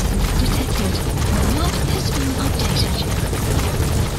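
A helicopter in the video game Metal Gear Solid 5 whirs steadily, close and loud, its rotor noise a dense continuous roar with no talking over it.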